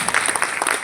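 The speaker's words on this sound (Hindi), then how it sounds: "एक जोरदार ताली है" An audience at an Adani Foundation event on a TB-free India campaign claps for a 10th-grade girl, a brief burst of fairly close, uneven hand claps that does not let up before it cuts off.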